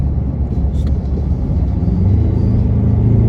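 A deep, steady engine rumble fills the cabin, low and throaty, with a slight swell in intensity toward the end and no talking.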